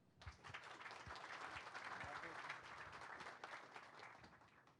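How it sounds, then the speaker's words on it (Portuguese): A crowd at a product launch event claps steadily in a faint, distant wash of applause, with a few sharper individual claps standing out and murmuring voices mixed in. "salva de palmas aí para o Odair"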